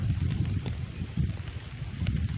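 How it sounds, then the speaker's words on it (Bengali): Steady wind rushing and buffeting across the microphone, a continuous low rumble with gusty swells and no voices. "কি সুন্দর মিলিমিলি বাতাস বইছে"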